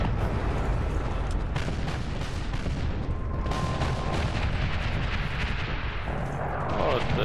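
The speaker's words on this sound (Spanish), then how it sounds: "Oh, explosiones." Dense, continuous rumble of booming blasts and gunfire-like crackle from the video game Medal of Honor (2010), loud and sustained throughout, with a brief tonal whine in the middle.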